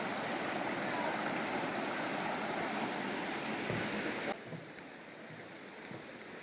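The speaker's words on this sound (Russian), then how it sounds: "Поднялись чуть выше водопада." Waterfall near Alahan monastery in Turkey, a dense, steady roar of rushing water that suddenly drops to a quieter, more distant wash partway through.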